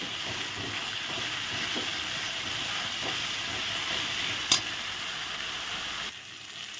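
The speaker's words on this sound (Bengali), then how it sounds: "এখন মশলা ভালো করে একটু কষিয়ে নিচ্ছি।" Masala for boroli fish curry fries in a pan, a continuous loud hiss and sizzle with a few faint stirring scrapes and one sharp clink before the sizzle drops away.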